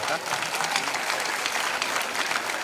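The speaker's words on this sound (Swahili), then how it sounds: "Wapi makofi mazuri kwa Yesu." Sustained applause from a crowd at a school event in Kayole celebrating a new school bus, dense steady clapping filling the whole stretch with no pauses.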